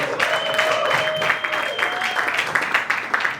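A comedy roast battle audience claps and cheers loudly, with a shrill whistle riding over the noise for a couple of seconds.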